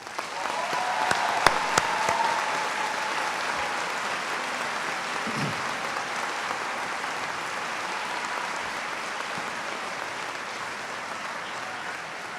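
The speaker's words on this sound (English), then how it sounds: "please join us in applauding our faculty" Audience applause fills a college bachelor's commencement ceremony as the faculty stand, a steady broadband patter of many clapping hands that holds evenly for about twelve seconds, with a few sharper claps early on.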